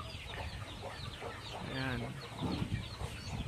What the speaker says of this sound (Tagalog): Tsaka yung mga manok natin.